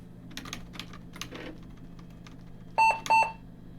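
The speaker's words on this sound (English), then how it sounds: "Okay, it's beeping at me." Quiet keyboard typing and clicks, then two short, loud electronic beeps in quick succession near the end from a Compaq Deskpro EN computer.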